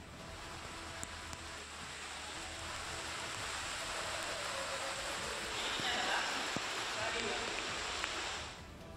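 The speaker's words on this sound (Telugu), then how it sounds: "భద్రాచలంలో నాన్ స్టాప్గా వర్షం కురుస్తోంది" Heavy, nonstop rain falls over flooded Bhadrachalam in Telangana, a steady dense hiss that holds at an even level for the whole stretch and swells slightly near the end.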